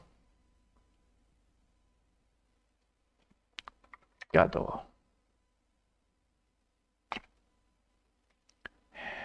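Typing on a computer keyboard in a quiet room: a few sparse key clicks, a short rapid burst of keystrokes, then isolated taps after long pauses.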